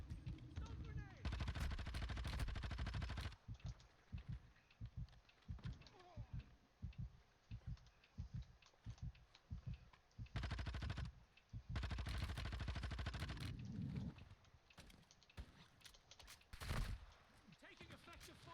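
Gunfire in a video game, firing in repeated loud bursts and rapid volleys broken by short pauses, with a voice speaking between some of the shots.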